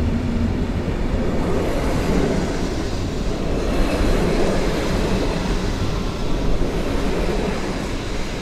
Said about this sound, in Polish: Na pierwszy peron wjeżdża Fredro do Wrocławia.